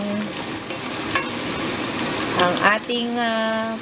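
Ground pork frying in a pan sizzles steadily while a utensil scrapes and stirs through it, with someone talking over the cooking.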